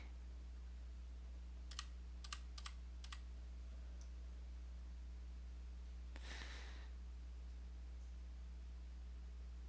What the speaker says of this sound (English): this is a point of sale keyboard